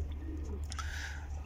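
Sick pet pigeons give a short, soft coo at close range over a steady low background hum, faint and brief.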